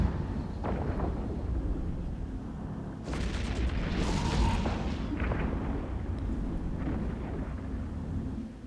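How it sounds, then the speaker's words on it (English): Ship under weapons fire in EVE Echoes, a low rumbling barrage of booms and impacts with a louder burst partway through, continuous and heavy. "now the Cinnabal is shooting at me"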